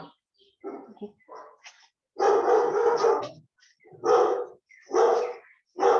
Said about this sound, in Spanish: Ay, los perritos.